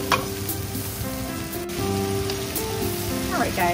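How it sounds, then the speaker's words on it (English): A vegetable stir fry with peppers sizzles steadily in a pan, a dense, continuous crackle with faint scraping of stirring and quiet talk in the background. "So our stir-fry here has been going for at least a good 5 minutes."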